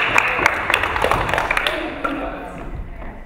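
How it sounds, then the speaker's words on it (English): An audience claps for improv performers before a word-association scene. Scattered, fairly close handclaps start strongly and then thin out while people talk over them. "Give them a clap."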